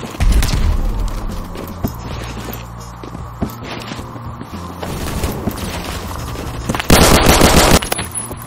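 M60 machine gun fire in the online shooter Phantom Forces, long loud bursts of rapid automatic shots with a heavy final burst near the end, close and punchy over game noise.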